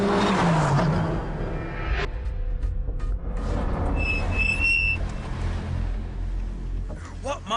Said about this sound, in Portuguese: Este turbo faz um som formidável.